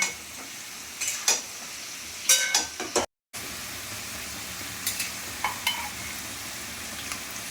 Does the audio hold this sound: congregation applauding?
no